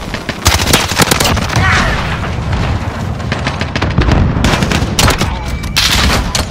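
Heavy gunfire in a shooter video game, dense loud bursts of automatic fire and sharp booms running nearly nonstop, with game voice callouts heard among the shots.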